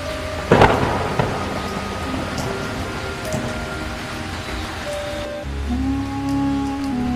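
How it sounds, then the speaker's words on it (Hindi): A sharp crack of thunder gives way to a low rumble, while heavy rain pours steadily throughout. "तेज बारिश, आंधी और बिजली की चमक ने सब कुछ हिला दिया।"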